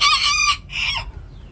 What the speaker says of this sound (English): I got too many roosters.